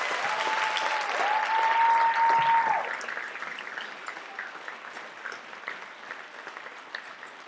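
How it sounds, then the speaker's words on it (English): Audience applause at a 7th and 8th grade school winter concert, a dense steady round of clapping that slowly thins and fades over several seconds, with a faint tone sounding briefly early on. "how about a nice round of applause for Dr. Mara."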